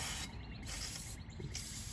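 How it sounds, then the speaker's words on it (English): Liquid Wrench penetrating oil sprayed from an aerosol can onto a Ford Ranger axle and backing plate during a brake job, giving a continuous close, loud hiss with two brief dips as the nozzle is released and pressed again. "Soak everything here with some liquid wrench."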